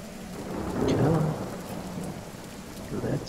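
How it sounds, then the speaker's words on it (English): Steady rain falling in the video game Divinity: Original Sin, a broad hissing wash with a low rumble swelling near the start, continuous throughout with faint voices in the background. "Fucking rain."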